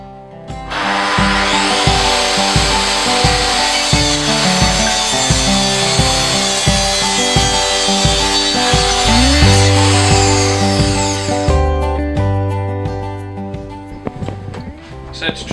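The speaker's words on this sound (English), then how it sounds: "Next we're going to use a track saw to make the grooves for the shelves." A track saw cuts shelf grooves in wood, a loud continuous buzzing whine with rhythmic chopping pulses, then winding down at the end.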